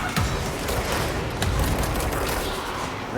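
Sustained gunfire fills an indoor firefight in the video game Control, with dense rapid bursts and heavy shots overlapping continuously, loud and close throughout.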